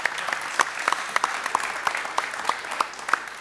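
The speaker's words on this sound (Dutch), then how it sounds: "Applaus voor Thomas." A small group claps at a moderate pace, individual claps distinct and fairly close, sustained throughout.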